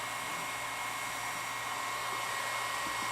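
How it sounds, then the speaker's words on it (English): Heat gun warming a snug coupler during an electric conversion of a Porsche 912, giving a steady, close airy blowing hiss that runs unbroken throughout with no talking. "So here I am warming up that coupler a little bit, just using a heat gun."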